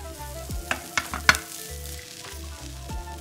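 Rice mixed with green onion, salt and soy sauce fries in a pan, a steady close sizzle broken by a few sharp clicks and scrapes from stirring, with no voices.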